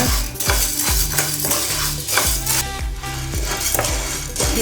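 Black gram dal roasting in a pan is stirred steadily, a spoon scraping and rattling the dry lentils in a regular rhythm, loud and close with no voices.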